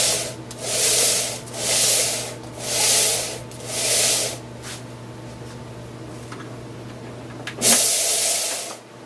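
A belt sander runs on a freshly fitted belt, producing four broad, rhythmic whooshing surges over a steady motor hum, then settling into a continuous drone with a brief clunk near the end.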